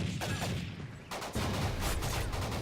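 Rapid gunfire aimed at zombies in Call of Duty: Ghosts Infected mode, a dense run of loud shots, briefly thinning before bursting out again steadily.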